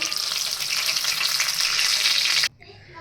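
Potato garlic bhajiya coated in gram flour batter deep-frying in hot oil, a loud, steady close sizzle and bubbling that cuts off abruptly near the end, leaving quiet room noise.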